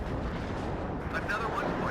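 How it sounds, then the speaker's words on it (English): Artillery fire during a WARNO real-time battle, a dense low rumble of distant and overlapping blasts rolling continuously under the game's ambient noise. "Such a beautiful artillery battle."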